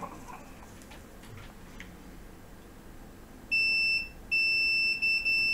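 A multimeter on continuity mode sounds a sharp, high, steady electronic beep in two bursts as a shorted capacitor on an iPhone board is probed, following faint ticks and clicks of the probes.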